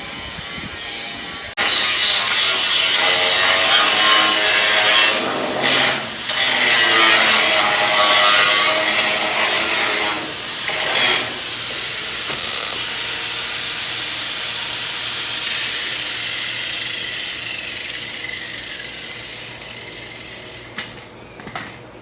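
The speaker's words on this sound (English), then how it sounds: "Okay, got the top welded on." Stitch welding the top onto a replacement battery box for a #70 NASCAR Winston Cup Buick Regal race car, a loud continuous crackling buzz in several long bursts with brief pauses and metallic clanks, no talking.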